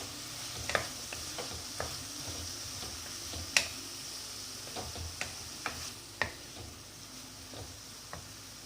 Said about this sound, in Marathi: याला सुद्धा 5 मिनटं परतून घ्यायचं